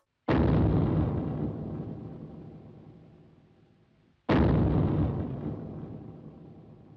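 Two huge booms from the original Godzilla film's opening, resembling the monster's footsteps, several seconds apart, each hitting hard and then rumbling away slowly into silence.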